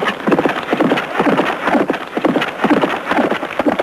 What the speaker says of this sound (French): ou tir à l'arc à cheval